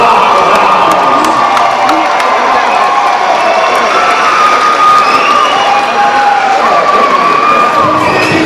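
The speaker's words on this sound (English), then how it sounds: "a round of applause for these two guys taking it all 5 rounds." A packed arena crowd at a Knucklehead 14 155 lb five-round title fight cheers, whoops and applauds loudly and steadily after the bout, with shouting voices rising above a continuous roar.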